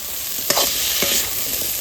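Drumstick (moringa) pieces tipped into a pan of frying spices with chilli powder and a little sugar for a Bengali curry, giving a steady sizzle with a couple of stirring scrapes and clatters, close and alone.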